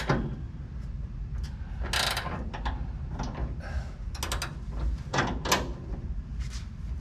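A ratchet tightens the upper shock bolts on a QA1 suspension install. Sharp, close mechanical clicks come in irregular bursts over a low background, with no talking.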